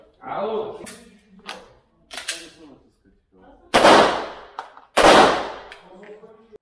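Gunfire at a shooting practice session: several loud, close sharp bangs with trailing echoes, two especially heavy reports toward the end, mixed with a person speaking between shots.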